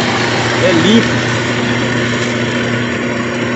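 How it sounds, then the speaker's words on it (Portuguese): An electric 2 hp motor drives a black pepper threshing machine on a farm, giving a loud, steady hum throughout while a person talks over it. "o motor que a gente usa nessa máquina aqui, o motor movido aí a energia elétrica de 2 cavalos"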